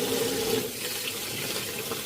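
Warm water runs steadily from a tap into a sink to soak a 1961 Horsman Jody doll in denture tablets, a continuous close splashing rush with no voices.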